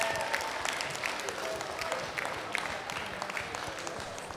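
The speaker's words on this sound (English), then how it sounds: "Round of applause for all of our contestants, please." A school audience applauds the quiz contestants, steady dense clapping filling the room for a few seconds at moderate loudness.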